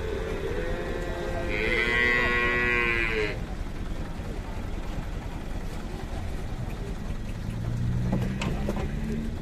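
Cows moo loudly in long, low calls, one rising higher for a few seconds, as sacrificial cattle are unloaded from a truck, with a rumbling engine-like background throughout.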